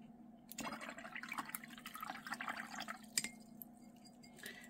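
Water drips and splashes softly in a steady patter while watercolour paint is thinned. The sounds are close and fairly quiet, with a sharper tap near the end.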